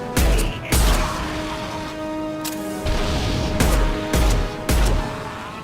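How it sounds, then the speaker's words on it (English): Explosions in the video game Mass Effect 2: several sharp, loud booms in an uneven sequence, each with a heavy low thump and a brief decaying tail, over a steady game soundscape with tonal hum. "Explosion!"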